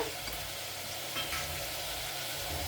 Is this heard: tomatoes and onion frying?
yes